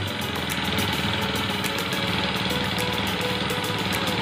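A Honda grass cutter engine runs steadily after its carburetor cleaning, a loud, close, continuous buzzing drone with a rapid rhythmic pulse and no pauses or talk.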